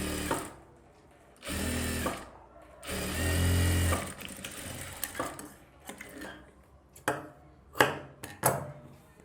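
Sewing machine stitching a blouse at a tailor's bench, running in short loud bursts of a few seconds each, broken by pauses and faint handling clicks.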